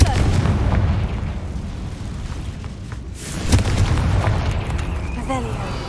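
A Confringo fire spell fired in the Hogwarts Legacy video game, a deep booming blast with rumbling impacts over game ambience, with a voice speaking over it.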